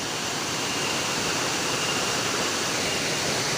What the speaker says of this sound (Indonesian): Air terjun Tujuh Bidadari ya.